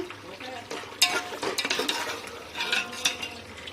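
Meat curry for Eid, with fried potatoes, being stirred and fried in a pot: steady spoon scrapes and clinks against metal over a soft sizzle, close and moderately loud, with no talking.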